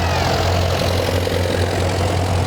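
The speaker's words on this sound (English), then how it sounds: "Ford was a real popular tractor back in the" A Ford tractor engine idles steadily, a loud, low, even rumble with a constant hum and slight knocking texture, close up and without talk.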